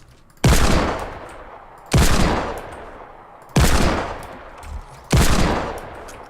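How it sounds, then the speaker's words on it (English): Four loud, evenly spaced single shots from a Desert Eagle pistol in a video game, each a sharp crack that fades in a short echoing tail. "I always try to drag center mass on a target when I'm shooting"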